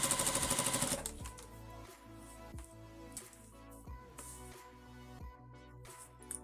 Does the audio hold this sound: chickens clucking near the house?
no